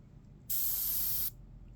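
Paint sprays from an airbrush onto demon skull artwork in a single steady hiss lasting under a second, starting and stopping cleanly against a quiet room.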